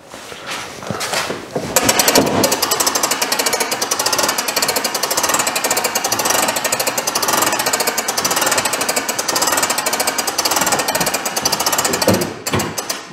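Pop-up camper jacks being cranked up, a loud sustained rattling, grinding mechanical clatter that starts after a brief quieter moment and runs steadily for about ten seconds before easing off near the end.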